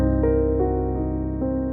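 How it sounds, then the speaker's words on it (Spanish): A half-diminished seventh chord, the Tristan chord, rings out in a short sustained passage with a few gentle re-articulations, close and clear with no talking. "Pero lo que tenemos es un acorde semidisminuido, que suena así."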